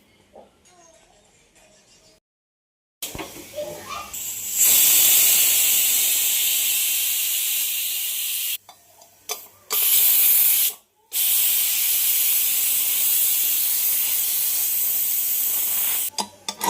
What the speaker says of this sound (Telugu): ఆవిరి మొత్తం అయితే పోయినట్టే కదా